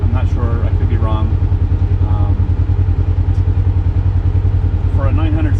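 Polaris RZR 900cc side-by-side engine driving at a steady, loud rumble with a fast continuous pulse and rattling clatter, with voices speaking intermittently over it.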